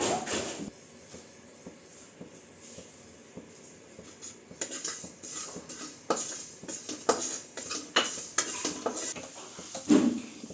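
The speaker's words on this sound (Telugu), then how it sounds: "ముందుగా స్టవ్ వెలిగించుకొని కడాయి పెట్టుకొని అది వేడైన తర్వాత ముందు జీలకర్ర వేసి వేయించుకోవాలి." Cumin seeds are dry-roasted in a kadai for a sorrel leaf pickle. A spatula scrapes and clinks against the metal pan in irregular strokes, quiet at first and growing busier and louder, over a faint crackle.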